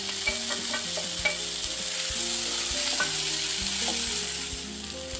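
Chopped tomatoes sizzle hard in hot oil with ginger garlic paste for an egg gravy. The frying is loud and constant, with crackling pops and the scrape of a spoon stirring the pan throughout, and no one speaks.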